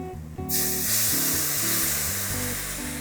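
Milk hits a pan of hot browned roux, setting off a sudden loud, sustained sizzling hiss that holds steady to the end, with a low music bed underneath.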